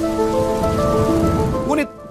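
Rain falls steadily in a dense, close patter on a surface, continuous and fairly loud before cutting off abruptly near the end.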